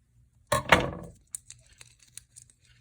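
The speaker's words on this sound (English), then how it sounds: "And let's just cut the ends." Scissors snip the loose ribbon ends of a bow on a handmade suspended-shape ornament, one quick crisp cut followed by a few faint, scattered ticks and rustles close by in a quiet room.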